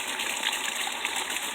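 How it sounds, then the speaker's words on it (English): Water pours steadily from a small model waterfall built for a voltage experiment, making a close, continuous gushing and splashing rush with no voices over it. "And that's with using our waterfall."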